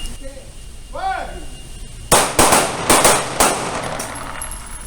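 Pistol shots at an outdoor firing range during a basic pistol fundamentals class, four loud sharp cracks in quick succession after a voice calls out, over steady background noise.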